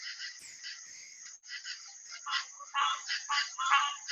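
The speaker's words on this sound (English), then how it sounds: "in that recording, you're hearing a bronze frog chorusing with a green tree frog" Bronze frog and green tree frog chorusing together in the Houston area, with loose, twangy plucked-banjo notes overlapping in an irregular, fairly close chorus that builds in density toward the end.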